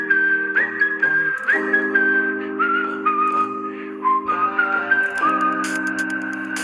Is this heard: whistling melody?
yes